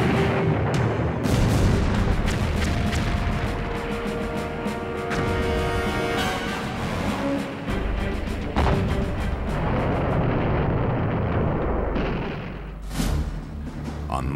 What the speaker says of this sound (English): the Navy kicked off the attack with 3 days of heavy bombardment